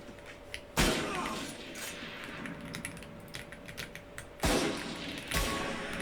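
Video game gunfire in a one-on-one shootout, a few loud, sharp bursts standing out above a continuous bed of softer clicking and background game noise, heard without talk.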